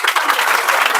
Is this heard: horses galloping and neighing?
no